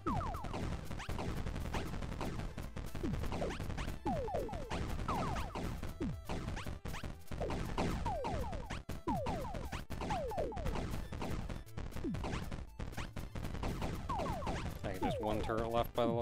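Rapid bursts of video-game gunfire from a wall of turrets crackle throughout, dense and continuous, with a voice talking over the shooting.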